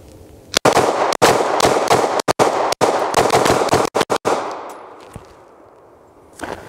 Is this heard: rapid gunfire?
yes